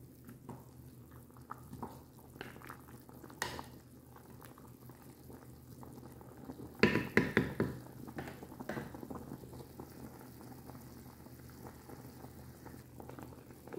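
A pot simmering and bubbling on the stove while chicken kabsa cooks, with a steady low bubbling bed and a louder burst of boiling and clatter in the middle, no talk.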